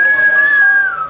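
A voice whistles a single sustained, fairly loud tone that slides downward at the end, imitating strong mountain wind whistling on Gunung Salak.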